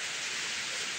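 Dense, steady rain hisses continuously, a broad wash of falling water with no voices or other sounds.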